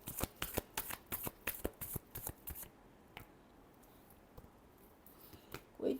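Tarot cards being shuffled in a rapid run of crisp riffling snaps for about three seconds, then a few scattered softer card taps and a final rustle, close and fairly quiet with no talking.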